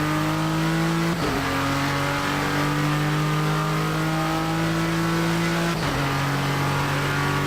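A Ford GT's engine in Project CARS 2 on the Circuit of the Americas roars loud and close under hard acceleration, its pitch climbing steadily through two quick gear changes, with no voices.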